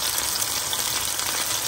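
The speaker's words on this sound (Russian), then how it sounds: "Дубовички отправились на сковородку." Steady, close sizzling of wild bolete mushrooms frying in a pan, a continuous crackling hiss with no voices.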